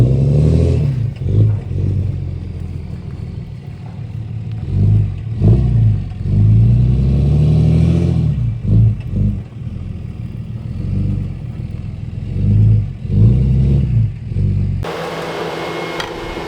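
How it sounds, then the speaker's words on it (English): A Cummins pickup truck engine hauls a roughly 16,000-pound trailer load, its diesel drone rising and falling in repeated loud surges of revving, close and continuous throughout. "It'll be the heaviest load I've pulled with my new Cummins"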